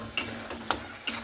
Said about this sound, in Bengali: খুব সুন্দর করে কিন্তু আমি নাড়াচাড়া করে নিচ্ছি ফুড কালারটা দিয়ে